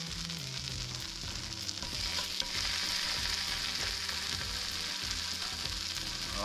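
Leftover mashed potato pancakes fry on a hot griddle, giving a dense, continuous sizzle with faint crackling that holds at an even level throughout.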